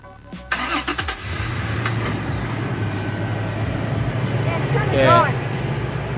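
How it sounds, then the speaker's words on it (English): A truck engine cranks and catches near the start, then settles into a steady low idle rumble that continues throughout, with a brief chirp or squeal near the end. "Let's start the truck."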